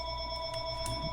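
A telephone ringing in a room, a steady electronic tone held throughout, moderately loud with faint background noise.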